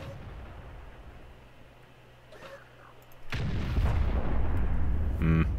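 A French artillery tank in World of Tanks fires a single heavy shot: a sudden loud boom that breaks a quiet stretch and rumbles on for a couple of seconds.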